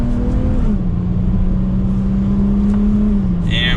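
A 2022 Dodge Challenger SXT pulls hard in second gear, its engine drone holding loud and steady before dipping slightly as it climbs, heard close from inside the car with no talking.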